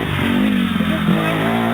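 A Kawasaki KDX 220 dirt bike, ridden by a 10-year-old on a watered sand track, revs with a loud, close, continuous engine buzz whose pitch swells and dips.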